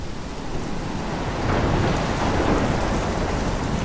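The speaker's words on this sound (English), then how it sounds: "I've never seen a storm like this in Oregon." Heavy rain and rolling thunder of a storm in the video game Life is Strange, a dense steady roar that swells louder midway and holds, with no talk over it.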